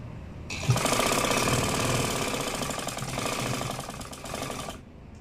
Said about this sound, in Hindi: सिलाई कर देंगे।